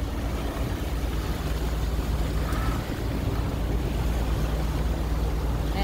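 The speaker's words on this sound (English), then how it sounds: "the waves are getting bigger" Waves washing against a boat at sea during a passage from Oyster Bay to St Marks, a loud, continuous rushing wash with wind noise, steady and close throughout.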